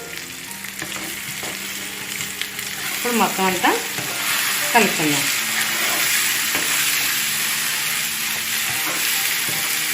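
A tempering with a pinch of asafoetida sizzles hotly in a pan for coriander-tomato chutney, a steady crackling fry with stirring scrapes, and a voice speaks briefly over it.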